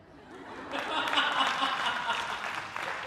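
Applause and scattered laughter rise from the audience at a Hindi comedy poetry show, building after a quiet start into sustained, fairly close clapping that holds for a couple of seconds, then tapers slightly.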